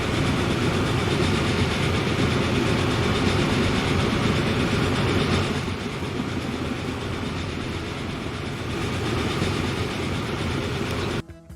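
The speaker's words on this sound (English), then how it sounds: "Let's watch this train." A train rolls along steadily in a city building tycoon game, its loud continuous rumble and clatter holding for about eleven seconds before cutting off.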